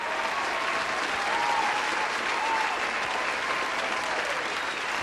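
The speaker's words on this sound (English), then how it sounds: "Applause." Steady applause from a studio crowd fills the whole stretch at an even, sustained level, with no talking over it, as a podcast episode opens.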